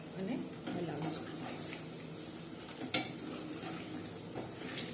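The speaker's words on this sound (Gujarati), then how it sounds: "અને હલાવીશું." Pieces of dhokli are stirred in hot oil in a pan, with soft scraping and gentle sizzling, a single sharper clink of utensil on metal partway through, recorded up close and fairly quiet.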